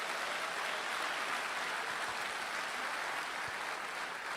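A church audience applauds a Portuguese-speaking preacher, with dense, steady clapping from a large crowd filling the whole stretch at an even loudness.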